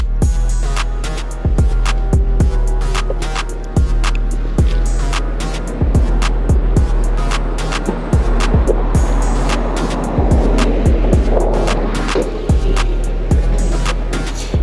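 Riding a refurbished Xiaomi 4 electric scooter while testing its brakes: a steady low motor and road rumble runs throughout, broken by repeated sharp clicks and knocks, with a rougher scraping burst near the end of the ride.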